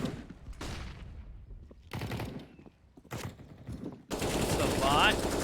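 Sharp gunshot bursts in a Counter-Strike esports match fire in separated volleys before a dense, sustained exchange of shots near the end, with a commentator's voice partly underneath.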